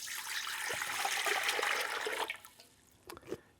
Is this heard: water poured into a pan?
yes